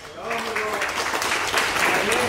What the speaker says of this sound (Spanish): Fuerte los aplausos para Rocky.